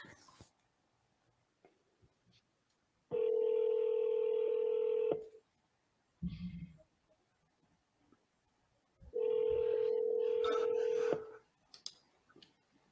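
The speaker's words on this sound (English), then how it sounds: "So we'll give Sam a call" A phone dials out in two long bursts of steady dialing tone with a brief click and rustle between them, close and clear against a quiet room, with no one speaking.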